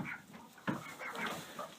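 Laying hens cluck in short, soft bursts close by, with one sharper squawk partway through, over a low background hum.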